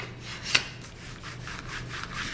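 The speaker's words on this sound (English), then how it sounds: "I'm just burnishing that down." A paper piece is burnished down onto an autumn twist-and-fold greeting card, giving soft, close rubbing strokes with one brief louder scrape near the start, over quiet room hum.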